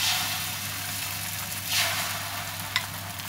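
Eggs dropped into hot oil in a pan, a steady loud sizzle and crackle that swells briefly partway through and carries one sharp pop near the end, with no talking.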